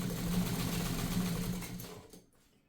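A Morse DuoMatic sewing machine running a fine satin stitch, a close steady mechanical whir that slows and fades to quiet near the end.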